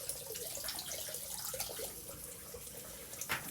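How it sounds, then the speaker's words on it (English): A shaving razor held under running tap water for a rinse, producing a faint, steady gush of water into a sink with a brief splash near the end. "let's give that a rinse"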